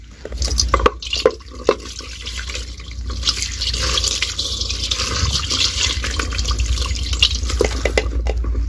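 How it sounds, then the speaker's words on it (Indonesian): Water from a tap runs steadily while something is rinsed clean in a sink, a continuous close splashing flow with a few brief knocks near the start. "Oke dan ini kita bilas ya"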